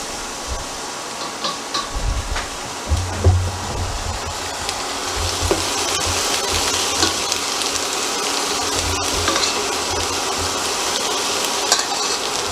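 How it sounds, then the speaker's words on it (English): Garlic cooks in a hot pan for pork medallions with mushroom gravy, giving a dense, continuous sizzle close by. A few low thumps and light clinks at the start, then an even frying hiss with no talk. "now we're just going to cook this for about 30 seconds just so the garlic gets a little bit cooked"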